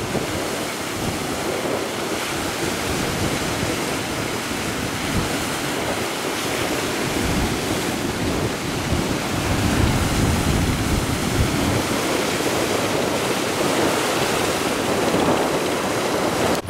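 Strong wind buffets a fishing boat at sea amid big waves, a constant loud roar of gusts and rushing surf with heavy microphone wind noise throughout, no talking.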